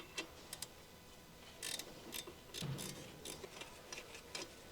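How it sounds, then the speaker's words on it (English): Faint, sparse ratcheting clicks and light metallic taps come from an 8mm quick wrench loosening the height sensor on a 2015 Ford Escape, quiet and intermittent against a low background with no speech. "Use an 8mm quick wrench to remove the height sensor."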